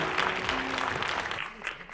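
Wedding guests in the Walkerhill Hotel Theater Hall applaud the bride and groom, with a brief burst of crowd clapping that tapers off, while a voice briefly speaks through it.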